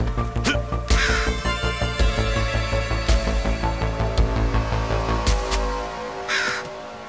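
Birds cawing in The Mummy Demastered video game: a steady series of harsh crow-like caws repeating in quick rhythm over a droning music bed, loud and close throughout.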